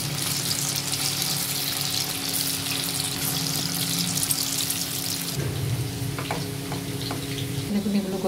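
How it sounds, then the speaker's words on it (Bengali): Chicken pieces for chilli chicken fry in oil with a loud, dense sizzle that continues steadily, then softens and turns to bubbling with stirring clatter near the end, close up and without speech. "এইভাবে আরও এরকম করে বাকিগুলো আমি ভেজে নিচ্ছি।"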